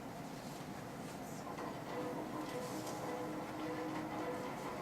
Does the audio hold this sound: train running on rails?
yes